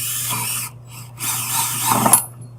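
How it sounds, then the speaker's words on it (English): A power drill with a 1 1/4 inch hole saw whines through a plastic bucket in two bursts with a short pause between, close and fairly loud, ending abruptly. "we've got a 1 1/4 inch hole saw. We'll just drill in."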